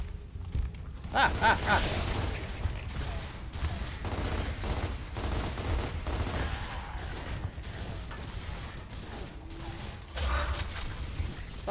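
Gunfire and mechanical clanks from the Gears of War video game sound in rapid bursts and repeated sharp reports over a low rumbling backdrop, fairly busy throughout.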